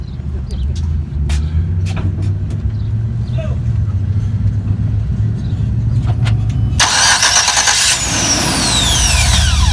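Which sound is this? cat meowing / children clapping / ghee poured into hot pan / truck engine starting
truck engine starting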